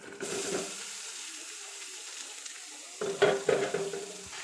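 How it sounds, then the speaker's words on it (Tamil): Grated beetroot tipped into a pan of fried onions and chana dal, a soft sizzle running throughout with a louder burst of frying and stirring near the end, no voices. "அந்த பீட்ரூட்டை இதில் போட்டுறேன்"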